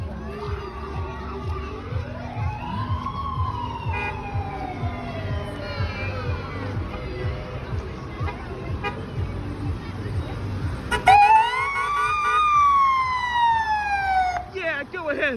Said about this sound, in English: Sound that siren with pride.